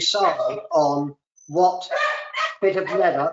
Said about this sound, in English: That's not a cow barking, that's my dog.